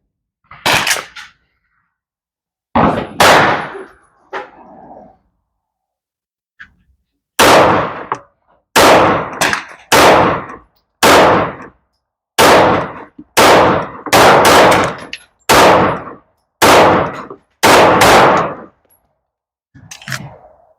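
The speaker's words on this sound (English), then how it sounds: "All right, these are going to be the shots with the Walther PDP. This is the steel frame match." Shots from a Walther PDP steel frame match pistol ring out at a range, sharp and loud, first two scattered, then about ten more in an uneven, fairly quick string with silent gaps between them.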